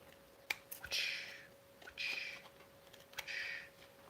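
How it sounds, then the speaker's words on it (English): Scissors snip through a sewing pattern in three bright, crisp bursts about a second apart, close and fairly quiet, with small clicks between them and no talk. "You guys get cutting sound effects in case you can't hear the scissors."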